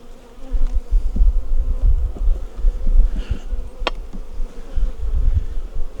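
Honey bees buzz loudly and continuously around an opened hive being worked in a farm yard, a dense close drone with occasional brief knocks and clicks from handling.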